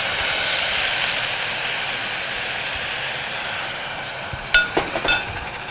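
Stock added a spoonful at a time to risotto cooking in a pan, giving a steady, soft sizzling hiss, with a few sharp clinks of a utensil near the end.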